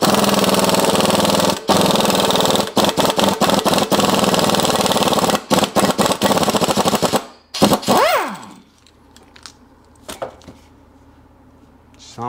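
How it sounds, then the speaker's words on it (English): An air impact wrench with a 19 mm socket rattles off a nut while the PTO is removed during a Seadoo 951 DI engine teardown, loud hammering bursts broken by brief gaps, then fading to quiet shop sounds. "Now I got to pull that nut and pull the PTO off. 19 mil socket, air."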